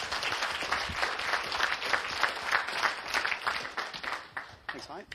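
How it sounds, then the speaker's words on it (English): Audience applause at a talk, a steady patter of many hands clapping at moderate volume for several seconds, fading toward the end with a brief voice. "let's give him a huge round of applause"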